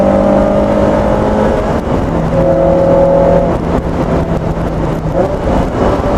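Lotus Elise Sport 160 engine, with a lightened flywheel, revving freely while driving: a steady loud interior drone with rising and falling tones, no talk.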